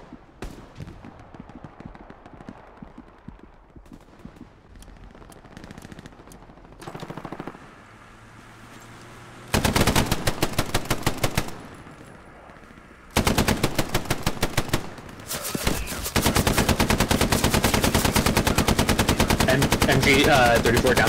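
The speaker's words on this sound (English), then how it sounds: "MG 34 down the road." MG 34 machine gun fire in the WWII shooter game Hell Let Loose, with long loud rapid bursts of automatic fire broken by short pauses, following quieter scattered distant battle noise.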